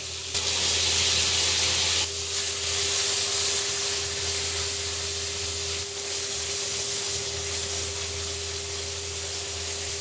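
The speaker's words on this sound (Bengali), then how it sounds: "আমরা অ্যাকচুয়ালি চাচ্ছি হচ্ছে চামড়াতে একটা সিজল টাইপের হইতে আর কি।" Chicken skin sizzles steadily in a hot grill pan, a constant loud hissing crackle with a faint hum underneath, continuous and close without any voices.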